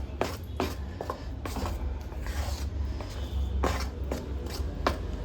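Ragi halubai being stirred with ghee in a pan, a spoon scraping and slapping through the thick sweet paste in irregular strokes, close and fairly quiet over a low steady hum.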